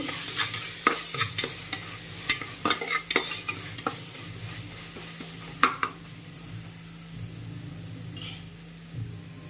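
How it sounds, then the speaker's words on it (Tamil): Tomatoes and masala sauté in a pan for paneer dum biryani, with a spoon repeatedly stirring and scraping through a soft, steady sizzle, the clacks bunched in the first half and then thinning out. "தக்காளியும் போட்டு நல்லா தக்காளி மேஷ் ஆகிற அளவுக்கு நல்லா வதங்கட்டும்"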